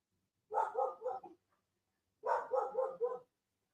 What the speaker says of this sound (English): These dogs aren't going to stop.